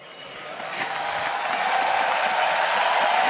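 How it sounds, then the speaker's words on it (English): Crowd at the 2016 League of Legends All-Stars esports event in Barcelona swells into steady cheering and clapping for the analyst desk, building from moderate to loud and holding as a continuous wash of noise. "Cheering for the analyst desk."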